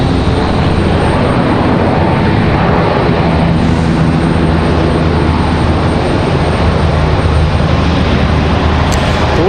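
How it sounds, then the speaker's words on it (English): An airliner touches down on the runway at Raleigh-Durham International Airport with some crosswind, its loud, continuous engine roar and rumble filling the whole stretch without any talking. "Bit of a touchy touchdown there."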